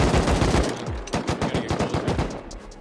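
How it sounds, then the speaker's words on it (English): Rapid bursts of automatic gunfire in the survival game Rust crack out in quick, closely spaced shots, loud and near, with a short pause between strings of fire and no talk. "We can probably shoot him."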